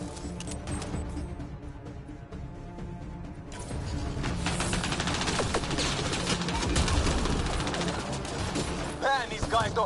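Gunfire in the video game Mass Effect Andromeda: a quieter stretch of scattered shots gives way to louder, denser volleys of rapid fire, with a voice calling out at the end.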